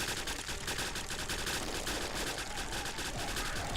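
Rapid weapon fire in the video game Orbiz, a dense, continuous burst of machine-gun-like shots that stays steadily loud and close throughout, with no talking over it.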